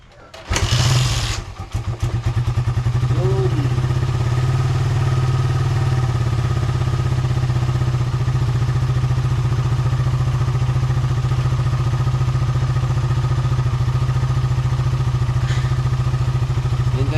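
A motorcycle with a weak battery is kick-started and catches quickly, then settles into a loud, steady, close-up idle with a rapid, even thrum that runs on alone.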